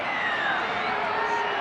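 A rugby league crowd at a 1993 Penrith Panthers versus St George match roars in a steady, loud wash of cheering that holds through the moment with no clear break.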